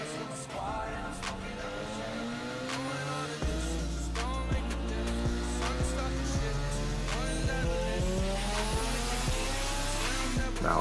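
A Mazda RX-7 sports car drives hard, its engine note climbing and falling through several gear changes as tires squeal in short bursts, loud and close throughout with no talk.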